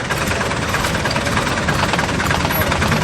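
A tractor engine idles nearby with a loud, steady, rough rumble and vibration that runs unchanged throughout, with no talk.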